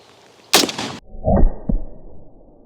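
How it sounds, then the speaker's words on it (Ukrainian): A single sharp gunshot with live ammunition fired at a Russian armor plate, followed by a short metallic impact ring and a brief rumbling echo. "зараз буду стріляти по російській плиті, так само бойовими набоями"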